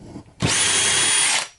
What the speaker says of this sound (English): But I might have a bit that can drill some of that out.